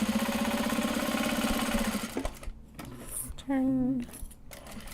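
A sewing machine stitches seams on a fabric card holder made from Japanese fabric, running steadily for two seconds and then stopping, with brief clicks and a short burst of stitching later while a voice speaks briefly.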